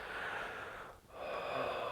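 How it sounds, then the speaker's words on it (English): Slow, deep breathing during a yoga flow, a long airy exhale that fades to a brief quiet moment before the next steady, close breath begins. "Final breath here. And breathing out, coming back to sitting."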